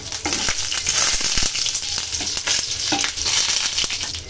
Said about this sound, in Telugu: ఇప్పుడు ఆయిల్ వేడెక్కింది. శనగల కోసం ముందుగా ఆవాలు, అలాగే జీలకర్ర, ఎండుమిరపకాయలు,